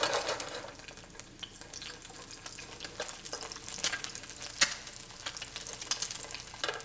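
Eggs fry in a nonstick pan with a steady crackling sizzle and sharp pops, bright and close, continuous throughout with no voices.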